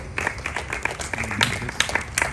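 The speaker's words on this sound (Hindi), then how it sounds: "प्लीज तालियों के साथ उनका स्वागत करें" Audience applause welcoming a guest speaker at a World Hindi Day celebration, a steady wash of clapping from a crowd with some louder claps standing out, lasting a couple of seconds.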